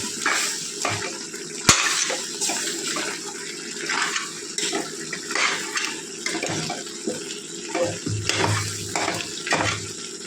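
Water poured into a simmering chicken and spinach curry while it is stirred, giving splashing and bubbling with the scrape of a spoon against the pot, close and without speech.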